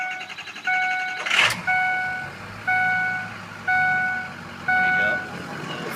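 Ford long-bed pickup truck starting: a short starter crank and the engine catching, then a warning chime beeping in a regular pattern over the idle, all close.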